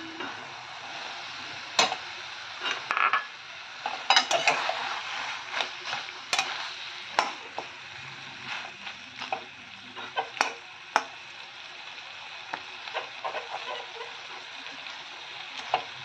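Prawns sizzle and fry in a wok with taro leaves for a Bengali prawn and taro leaf dish, under steady frying hiss with frequent sharp scrapes and clatters of stirring, no talk.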